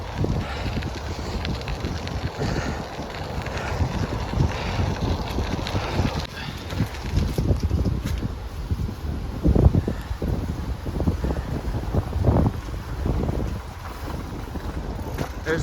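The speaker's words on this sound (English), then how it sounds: "Kind of biking into the wind now." Steady wind noise buffets the microphone while biking along a rail-trail in autumn, broadband and continuous, with heavier low gusts swelling toward the end and no talk.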